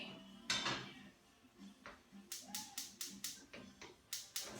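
A pot holding four cups of chicken broth is set on a kitchen stove while scallops cook, giving a string of quiet, sharp metallic clanks and taps in a steady rhythm, close by, with no talk.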